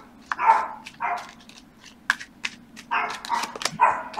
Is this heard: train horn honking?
no